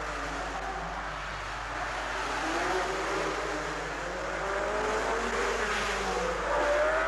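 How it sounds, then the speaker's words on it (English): Formula One cars from the 1960 Monaco Grand Prix roar away from the start with wheel spin, a dense, distant engine wash with a rising whine, rather faint and steady over several seconds. "When the race started, Joe Bonnier sneaked through into the lead as all the front row suffered excessive wheel spin."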